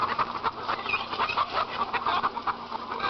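Debeaked egg-laying hens clucking repeatedly in quick, irregular bursts, several birds close by making busy, agitated calls.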